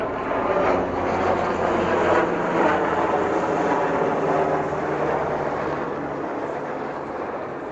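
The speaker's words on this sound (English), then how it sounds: "I hear a helicopter." A military helicopter passes overhead near the downtown Jacksonville, Florida river walk, a steady broad rumbling drone that holds fairly loud then eases slightly, with no talk.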